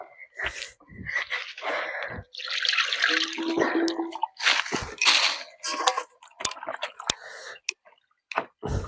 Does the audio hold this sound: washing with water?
yes